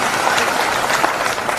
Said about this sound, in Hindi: आप सब लोग एक बार अपने स्वयं का तालियां बजाकर स्वागत करें।